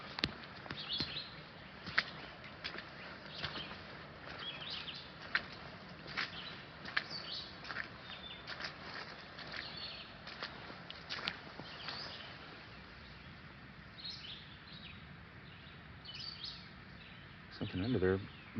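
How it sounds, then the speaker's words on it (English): Birds chirp faintly in a forest beside a lake trail just after rain, with scattered calls over a steady damp background hush and occasional rustling nearby. "The birds, now that the rain has stopped, the birds are really chirping"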